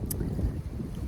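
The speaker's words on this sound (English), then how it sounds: "It's very windy" Strong wind buffets the microphone outdoors in a farm garden, a brief, loud low rumble of gusting air.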